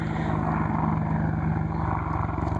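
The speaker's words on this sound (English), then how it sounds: "That's an Apache helicopter." An Apache helicopter circles closely overhead near fishermen, its loud, pulsing rotor thump and engine drone steady and close throughout, with no talk.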